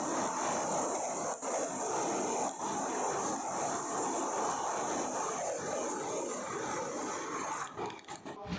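Kerala Express passenger train running slowly between Tirupati and Tenali, with a steady broadband rumble and rattle heard from inside the carriage and a few brief thumps and clatters.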